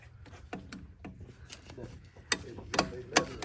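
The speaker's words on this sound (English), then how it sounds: "1/4 inch ratchet." A 1/4 inch ratchet clicks in short irregular bursts as it turns a bolt on a tractor being split in half, close and fairly quiet, with sharp ticks scattered over a few seconds.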